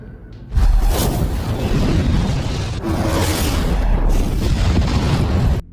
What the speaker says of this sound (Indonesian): Namun ledakan gerbong asap tersebut, malah menewaskan beberapa anak buah Soji